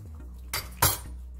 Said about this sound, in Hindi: सबको अच्छी तरह मिक्स कर लेंगे हम।